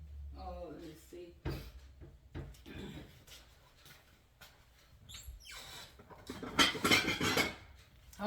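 Dishes and cutlery clinking and clattering in a home kitchen while someone looks for a saucer for eggs, scattered sharp knocks and scrapes of varying loudness, with a voice speaking in between.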